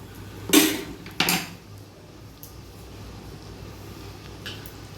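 Metal lid set onto a pot of chicken korma cooking on the stove: two sharp metallic clanks close together near the start, then a quiet low hum with faint small clicks.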